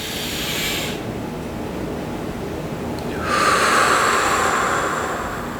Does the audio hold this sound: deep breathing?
yes